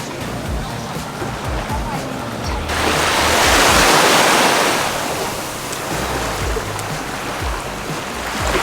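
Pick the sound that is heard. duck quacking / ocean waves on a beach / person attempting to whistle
ocean waves on a beach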